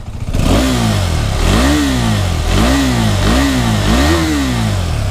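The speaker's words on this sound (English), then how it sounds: "Exhaust note." A KTM 390 Adventure motorcycle revs repeatedly in a showroom, its single-cylinder exhaust note rising and falling in about five quick throttle blips over a steady idle, loud and close with no talk.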